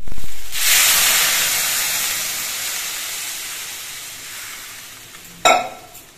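Broth is poured into spices sautéed for a homemade Bengali bata fish curry, giving a loud steady sizzling hiss that slowly fades, then a brief sharp clatter of a utensil near the end.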